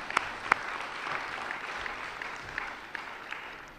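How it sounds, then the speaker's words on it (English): A lecture audience claps at a 50th anniversary public lecture, a short burst of soft, somewhat distant applause with a few sharper individual claps near the start. "Join me in applauding."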